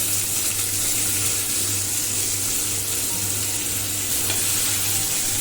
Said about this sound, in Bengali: একটা বড় পেঁয়াজ কুচিয়ে রেখেছিলাম, সেটা এখন দিয়ে দিচ্ছি।